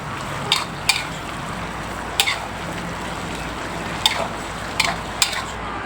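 Spicy stir-fried pork face tossed in a hot pan. Sharp spatula clacks strike intermittently over a steady frying sizzle, close and fairly loud, with no talking.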